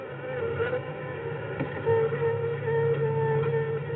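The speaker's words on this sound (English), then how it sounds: "Wasp, you better be careful. They can sting a man to death." Wasps buzz steadily at close range, a continuous droning hum with wavering pitch that holds for several seconds without any voices.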